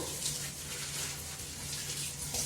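Tap water running over paneer as it is washed, a steady close hiss of flowing water that continues evenly throughout.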